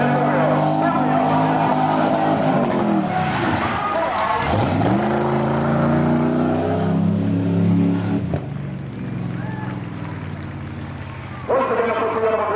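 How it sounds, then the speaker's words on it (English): A stunt car's engine revs and roars as it builds speed through turns in a stunt show at the Otsego County Fair, loud and rising and falling, with an announcer talking over it over a loudspeaker. "He'll be building speed with every turn of the wheel."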